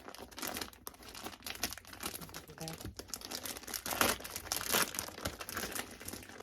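Crinkling and rustling of a plastic bag being handled and pulled open, with soft crunches and tearing sounds, close and fairly quiet.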